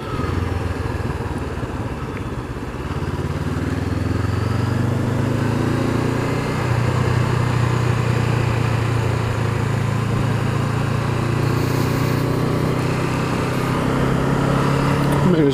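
A 2019 Honda CB500F engine burbles steadily while the bike is ridden, a continuous low throb with a rising tone partway through, heard close from the rider's position with wind noise and no pause.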